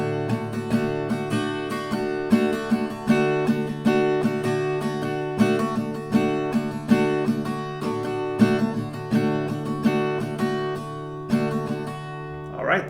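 Acoustic guitar strummed in a steady, slightly quick rhythm with ringing open chords, played alone and close with no talking.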